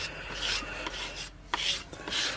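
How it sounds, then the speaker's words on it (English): Hand tool scraping white from the grooves of a medieval-style tile, a rough rasping scrape repeated in short strokes, close and steady. "then you keep scraping."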